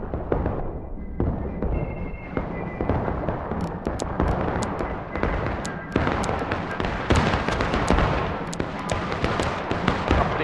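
Dense, continuous gunfire from troops firing in a War of Rights battle, with loud overlapping musket volleys and crackling shots rolling near and far for the whole stretch, little talk audible.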